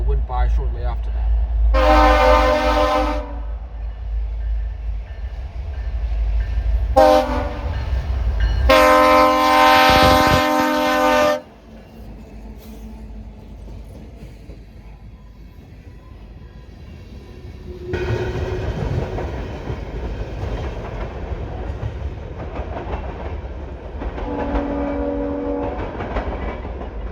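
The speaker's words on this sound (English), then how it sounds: "very short CPKC local went by shortly after that." Short CPKC local freight train passing in snow, with two long horn blasts early and more horn later, over a steady rumble and rolling wheel noise; talk is heard faintly in places.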